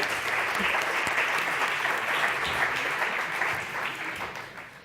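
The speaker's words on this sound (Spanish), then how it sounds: "Un aplauso para ellos, por supuesto." Audience applause for a round-table panel at an international culinary entrepreneurs' forum, a dense, steady wash of many hands that holds loud for most of the stretch, then thins and fades near the end.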